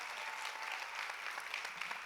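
An audience at the Island Music Conference 2024 keynote claps in a dense, even burst of applause, fairly distant and sustained without voices on top.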